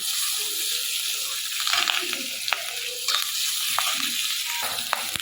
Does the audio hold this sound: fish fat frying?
yes